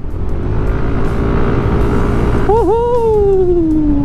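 Yamaha Aerox V2 scooter, a 2021 model, accelerating hard during a torque test on a ride, with loud wind rush and road roar, then a rising, wavering engine whine that climbs and steadies.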